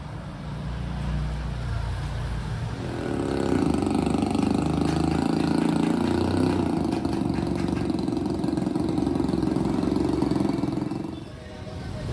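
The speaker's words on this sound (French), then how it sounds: "c'est le service de transport pour traverser le pont avec une moto qui pousse un chariot" A motorcycle pushing a cart across a bridge between Sabana de Torres and Puerto Berrio, its engine rising into a steady mid-pitched drone for several seconds before fading, with a voice speaking over it.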